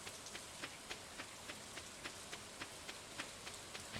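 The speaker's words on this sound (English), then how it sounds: "it's pouring rain" Rain pours in the Stardew Valley farming game as a steady, soft hiss, with faint, evenly spaced ticks running through it, quiet and with no talk.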